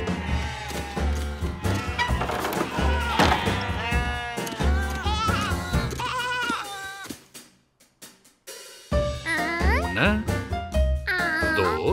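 Cartoon sheep bleat in a series of wavering, voice-like cries, mixed with a narrator and a child's speech, with a brief quiet gap partway through.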